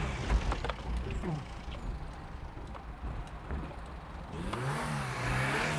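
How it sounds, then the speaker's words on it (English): A car drives slowly up onto the tilted slide bed of a recovery truck, its engine running at mid pitch with a rising rev toward the end, close by and steady under a low mechanical rumble. "I'll slide the bed down and I'll get you to drive it straight up"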